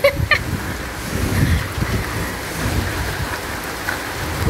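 Steady rain falls outdoors, a broad continuous hiss with a few sharper knocks near the start and no talking.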